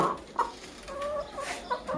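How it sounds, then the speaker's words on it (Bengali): Colombian Brahma hens cluck in short bursts with a few higher squawks, close by and fairly soft, no talking; two hens and a rooster are present. "দুইটা মুরগি একটা মোরগ এগুলো ডিম দিচ্ছে"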